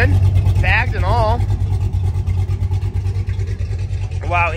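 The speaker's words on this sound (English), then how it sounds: "A Chevrolet 3100 rolling through. Sounds pretty good, bagged and all." A bagged Chevrolet 3100 truck rolls past at a lowrider car club barbecue, its engine a deep, continuous low rumble close by, while someone talks over it.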